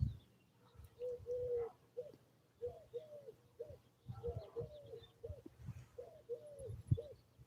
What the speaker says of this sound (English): Yes, mourning doves. They're fucking everywhere.